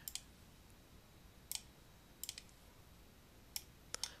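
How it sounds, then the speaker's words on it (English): Sparse mouse clicks, faint and close, come in small pairs and singles spread across a few seconds of near silence while text is dragged into place in a library seminar computer demonstration. "I'm just going to click and drag it into place."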